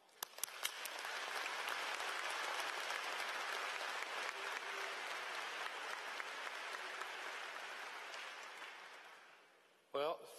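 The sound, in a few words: audience applause welcoming graduation speaker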